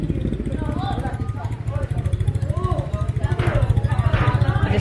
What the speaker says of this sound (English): We'll just ride a motorbike to show you.